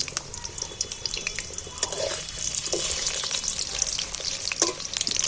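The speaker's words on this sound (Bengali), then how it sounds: "আমি আলুগুলো তেলের মধ্যে তেল গরম হয়ে গেছে তুলে দিচ্ছি আলুগুলোকে একটু নাড়াচাড়া করে ভালো করে লাল লাল করে একটু ভেজে নেব" New potatoes fry in hot oil and are turned now and then, giving a bubbling, crackling sizzle with occasional sharp clinks and scrapes from the stirring, heard up close.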